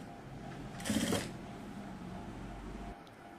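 A sewing machine stitching piping onto dress fabric gives one short, fast whirring burst, close and fairly quiet, over a low steady background hum that stops near the end.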